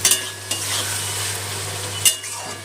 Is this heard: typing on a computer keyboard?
no